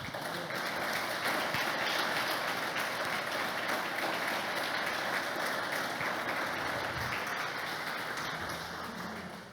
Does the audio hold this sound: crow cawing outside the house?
no